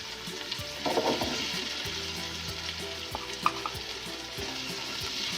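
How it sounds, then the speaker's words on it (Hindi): Chicken fries steadily in a pan as bell pepper goes in, a continuous sizzle with some stirring clatter and a few sharper pops, close and moderately loud, with no talking. "ये देखें हमारा चिकन अच्छे से फ्राई हो चुका है"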